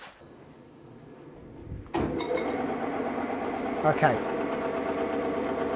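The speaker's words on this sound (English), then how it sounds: "So now we'll fire the machine up and we'll see where we're at initially" Engine balancing machine starts up and spins a V6 engine assembly, a steady mechanical whir with a sharp onset that then holds level, with a man's brief spoken word near the start.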